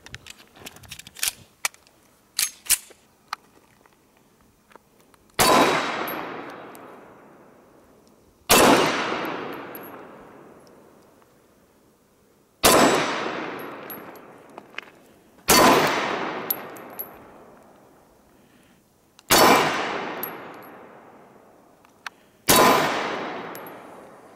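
A Colt 1911 .45 ACP Series 80 pistol fired six times at uneven intervals of about three to four seconds, each shot a sharp loud crack with a ringing decay, preceded by a few faint metallic clicks.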